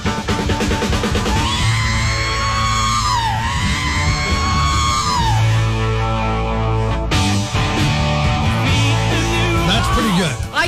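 A man imitates the long, raw rock scream from a song, a loud sustained yell with rising and falling pitch over music playing underneath.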